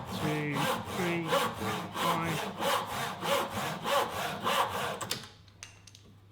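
A hand saw cuts through a wooden board in about a dozen steady rhythmic push-pull strokes, close and crisp, each with a rasping scrape, ending as the piece comes free and the sawing stops.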